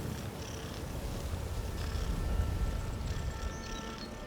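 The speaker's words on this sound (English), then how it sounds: "Listen, he purrs." A low, steady rumbling purr from a creature in Skyrim, continuous and close, with faint higher tones from the game soundtrack above it.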